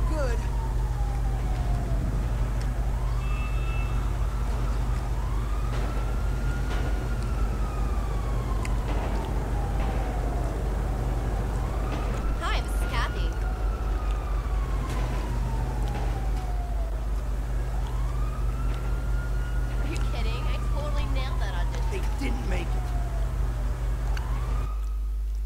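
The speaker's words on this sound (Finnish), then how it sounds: "Mene nyt se poliisiauto." A police car siren wails in repeated rising and falling sweeps, loud and steady throughout, over a constant low engine drone with bursts of game-like clatter.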